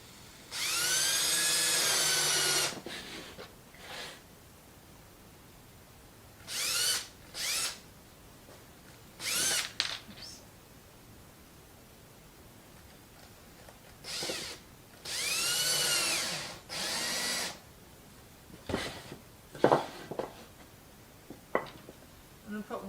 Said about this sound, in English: I'm going to get these screws started